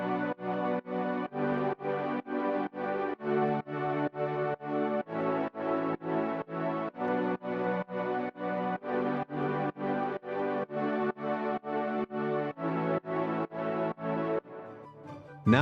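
Progressive house low synth layer, mixed with EQ and sidechain compression, pumping in a steady rhythmic pulse as each chord swells and ducks on the beat, loud and continuous, thinning out near the end.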